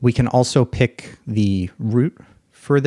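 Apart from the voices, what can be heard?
No everyday noise stands out behind the speech.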